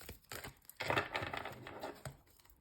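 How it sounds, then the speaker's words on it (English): Shiny tarot cards are shuffled by hand, giving close, quiet bursts of riffling and crisp card-on-card rustling in short irregular bouts. "2 more shuffles."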